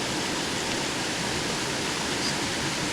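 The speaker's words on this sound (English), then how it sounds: "this flowing waterfall here" A Tennessee waterfall pours over a carved rock wall into forest, a steady dense hiss of falling water without a break, close and alone.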